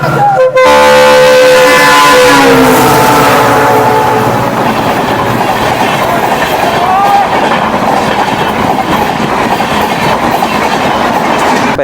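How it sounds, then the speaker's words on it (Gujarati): A train rumbles loudly past nearby as it arrives at Ningala railway station, Gujarat, at night, a long horn blast at the start fading into steady clattering wheels on the rails. "પાછળ ટ્રેન આવે છે જોઈ લ્યો આ નિંગાળા રેલવે સ્ટેશન"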